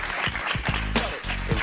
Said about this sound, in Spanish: Un aplauso para Noel Vidal.